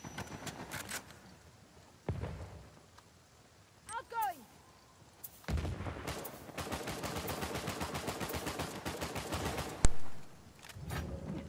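Bursts of video game gunfire in Uncharted 4, with rapid repeated shots in the second half, loud and close, mixed with a voice talking over the action.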